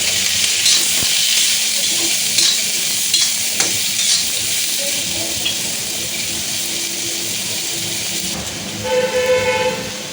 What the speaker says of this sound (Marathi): आता मी हा कांदा चांगला भाजून घेणार आहे.